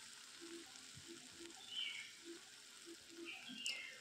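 Masala fries in a pan as it is stirred, giving a quiet, close sizzle with soft scraping and small irregular crackles.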